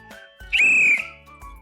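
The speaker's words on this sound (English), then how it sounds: "When I blow my whistle," A coach blows a whistle once, a loud, shrill, steady blast lasting about half a second, framed by quiet handling noise.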